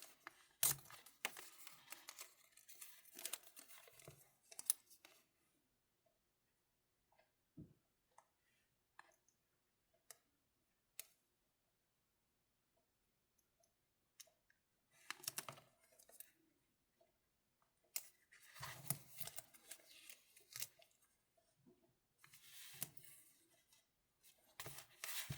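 Scissors cut through paper in a few separate bursts of crisp snipping and rustling, quiet and close, with long silent gaps between them.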